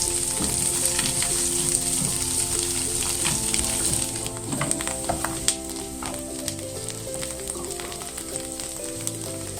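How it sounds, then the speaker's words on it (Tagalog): Blended spices and vegetables sauté in a pan for vegan bagoong, giving a continuous loud sizzle with occasional stirring scrapes and crackles. "So you saute this until the moisture of the spices or the vegetable that we blend in will be released."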